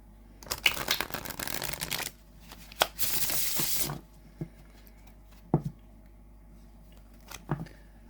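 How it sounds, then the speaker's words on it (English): A Unicorn's Journey tarot deck is shuffled up close. Two dense bursts of riffling cards come, the second a bright continuous whirr, followed by scattered light taps and card clicks. "I love to shuffle this deck."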